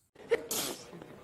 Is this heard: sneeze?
yes